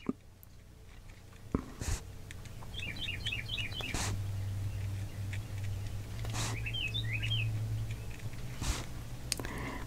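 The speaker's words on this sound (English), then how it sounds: "got the birds singing out my window over here" Faint bird chirps from outside a closed window come in two short twittering bursts from a distance, over a quiet room with occasional close clicks and taps.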